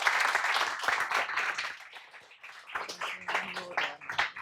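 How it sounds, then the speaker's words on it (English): Audience clapping for a panel on AI and jobs, loud at first then thinning into scattered claps, with a few voices and stray noises mixed in. "Do give them a big round of applause."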